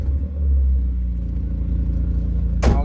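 A Mazda Miata engine with a new header rumbles loud and steady at idle nearby, with a sharp burst of noise near the end.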